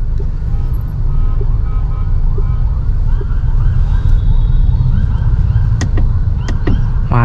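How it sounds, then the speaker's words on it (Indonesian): An ambulance siren sounds from behind a car in Indonesian traffic, its warbling tones rising over loud, steady road and engine rumble, with sharp yelp bursts toward the end. "ada ambulan di belakang nih"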